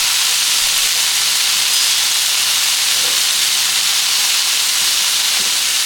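Steak burger patties sizzle in oil on a stovetop, a loud, steady, hissing fry that holds evenly from start to finish with no talking.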